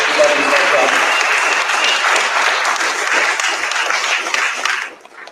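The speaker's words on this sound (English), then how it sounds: "Let's give a round of applause to Miriam, to Ramiro, to John, to all volunteers" An audience at a community gathering applauds the volunteers, a full burst of crowd clapping that holds steady for about five seconds before tapering off quickly at the end.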